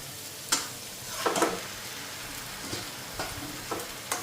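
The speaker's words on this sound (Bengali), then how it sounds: "চাউমিনটা দিয়ে দিই।" Chow mein stir-frying in a pan with fried potato and beans: a soft steady sizzle broken by a few sharp scrapes and stirs, close by, with no talking.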